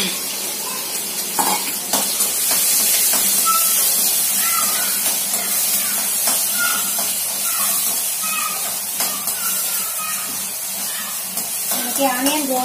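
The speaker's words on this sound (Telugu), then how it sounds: "ఆనియన్ గోల్డెన్ బ్రౌన్ కలర్ వచ్చేంత వరకు వేయించుకోవాలి." Onions frying toward golden brown for leftover-rice dish, a loud continuous sizzle and hiss with scraping and stirring of a spoon against the pan, up close throughout.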